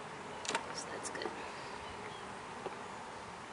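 A very small honey bee colony of three or four frames hums at an open hive, a steady close buzz with a few individual bees zipping past.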